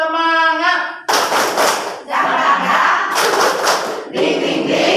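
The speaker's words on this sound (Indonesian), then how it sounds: "Tepuk semangat." Group of people performing a spirit clap in a classroom lesson: after a brief sung or spoken voice, brisk rhythmic clapping fills the room in loud, close bursts, with short pauses between phrases.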